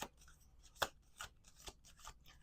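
A deck of tarot cards is shuffled in short, quiet bursts of riffling and slapping, with four or five separate soft strokes spaced apart and no talking.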